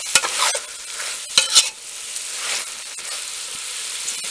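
Fish curry with karwaru pieces, tomatoes and curry leaves stirred in a frying pan, with a steady sizzle and several loud scraping strokes early on, close and clear with no talk.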